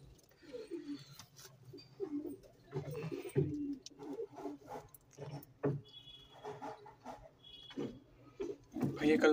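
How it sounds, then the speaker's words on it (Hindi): Repeated low cooing from Madrasi pigeons nearby, overlapping calls in uneven bursts, with a voice speaking intermittently underneath. "कितना अच्छा कबूतर है भाई"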